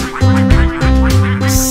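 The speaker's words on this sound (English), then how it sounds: "ducks" Ducks quack several times in quick succession over a steady musical backing, loud and close.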